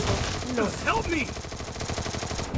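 Gunfire in the Free Fire battle royale game comes as rapid repeated shots in a steady rhythm, fairly loud under someone speaking over it.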